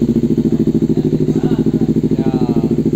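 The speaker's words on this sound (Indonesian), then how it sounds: "Jadi suara idle-nya dia tetap bulat, enggak begitu cempreng." A 2022 Honda CBR 250 RR SP idles steadily up close with an R9 H2 series full-system exhaust, giving a deep, rounded, evenly pulsing burble with no revving.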